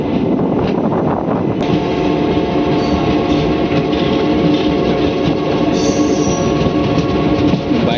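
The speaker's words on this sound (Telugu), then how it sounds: "నల్గొండ నుంచి మన ట్రైన్ బయలుదేరింది" Palnadu SF Express pulling out of Nalgonda station, a loud steady rumble of wheels and carriages with a brief metallic squeal, continuous and close with no talk.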